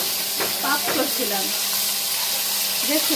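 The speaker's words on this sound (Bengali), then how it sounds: "তোমার এই মাছ ভাজার শব্দে আমি দুনিয়াদারি বন্ধ" Fish sizzles in hot oil in a wok during cooking for a wedding, a broad steady hiss running close up beneath brief voices talking.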